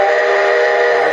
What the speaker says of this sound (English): There's the whistle steam.